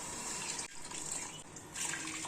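Water poured into a pot for mutton dum biryani with soaked rice: a steady, continuous splashing pour close by, running the whole time with one brief dip midway.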